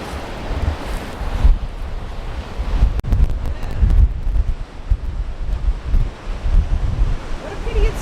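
Strong wind buffets the microphone on an open beach along South Australia's Limestone Coast, a steady loud rumble with gusty surges, and waves wash faintly underneath.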